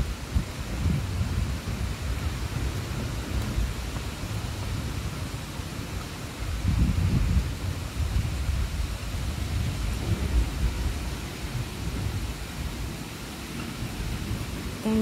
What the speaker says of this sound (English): Like rumble of thunder, just not stopping.